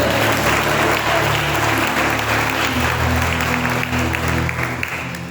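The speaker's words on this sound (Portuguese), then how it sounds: "Aplauda ele, aplauda ele." A church congregation at an evening service claps loudly and continuously, a dense burst of applause that tapers slightly at the end.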